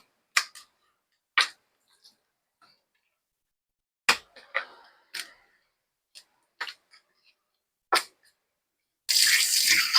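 Raw chicken pieces rinsed under a running kitchen tap, with scattered clicks and handling noises from the meat, then a steady rush of water near the end, close by.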